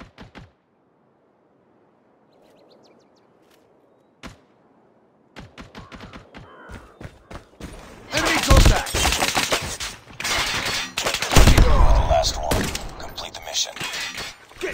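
Gunfire in a first-person shooter, starting with a few isolated sharp shots after near silence, then building into dense, loud bursts of rapid fire and impacts crowding the second half.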